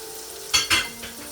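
Ginger garlic paste hits hot oil in a pot for kofta biryani, giving two quick loud hisses and a softer third over a low steady background.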